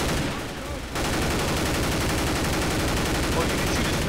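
M4 rifle gunfire in a heavily modded Left 4 Dead 2 match, a dense, nonstop stream of rapid shots that swells loud after a brief dip, with crowded game noise filling the background.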